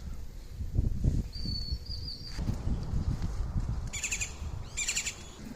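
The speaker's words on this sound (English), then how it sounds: "There's Woody the woodpecker up there." A woodpecker is up in a tree in Belize. Thin, high calls come from the bird, and two short bursts of rapid raspy notes sound near the end over low rustling background noise.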